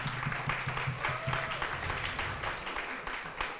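An audience at a talk on embroidery as a social act claps briefly for the restoration team, a short patter of moderate applause over room murmur.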